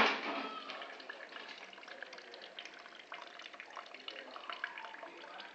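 Gasoline drains from a generator's gas tank in a continuous trickling, splashing stream, fairly close and faint, with a louder gush at the start.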